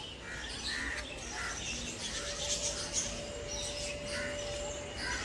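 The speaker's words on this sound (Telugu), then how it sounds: "పావురాలే కేకలు వింటూ ఉంటే అలాగే అక్కడే ఉండిపోదామా అనిపించేస్తుంది" Birds calling at Mettur zoo in Tamil Nadu, where pigeons are kept: faint, scattered chirps and calls over a steady outdoor hum, fairly distant, with no talk.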